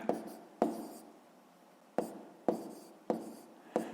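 A pen or pencil scratches out numbers by hand on paper while a sixth-grade math exercise with fractions is worked, several short scribbling strokes separated by quiet gaps, close and soft.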